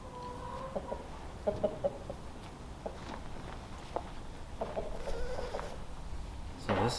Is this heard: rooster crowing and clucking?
yes